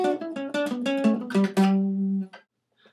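Guitar riff, played alone as a quick run of clean plucked notes that ends on a longer ringing note and then stops.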